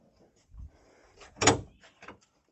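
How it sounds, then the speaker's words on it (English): The hood of a Lada 2107 car is handled and opened, giving a few soft metallic knocks and one sharper clunk, close and isolated against quiet. "the only way to open a hood is to hold it and then open it"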